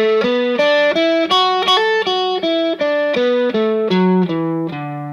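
A blues lick in the major pentatonic on distorted electric guitar: a quick run of about fifteen picked notes, some in pairs, moving down and ending on a held low note, loud and close with no talking.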